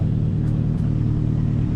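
A drift car's engine holds a steady, deep, close rumble at idle, an even low drone with no revving and no voices.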